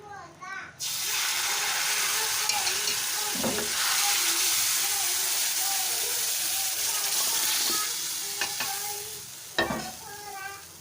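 Steady, loud sizzling of hot oil fills the clip as browned garlic and ginger tempering hits dal in the pan, with brief clatters and a voice speaking intermittently over it.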